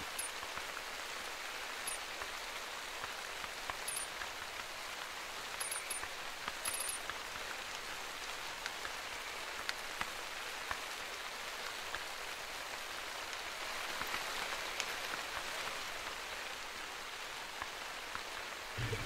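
Steady rain falls in the hunting video game Call of the Wild, a constant soft hiss of drops with occasional faint ticks throughout.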